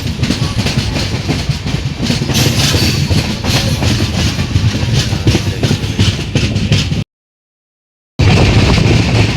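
A passenger train rolls along its tracks near Kanpur station on a route from Digha, giving a loud, steady rumble with rhythmic clickety-clack that breaks off briefly near the end before resuming.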